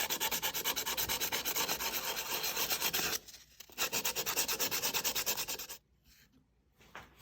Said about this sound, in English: So I've sanded this to a pretty good shape.